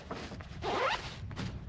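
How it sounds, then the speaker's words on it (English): A zipper is pulled shut on the storage bag of a Dash Poncho, a cover for a Jeep Wrangler JL, JT or JK, in one fairly loud, steady rasping stroke. "zips up"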